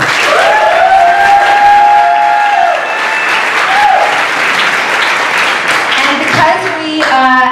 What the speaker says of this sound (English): I'm going to ask people to hold a little bit of the rambunctious applause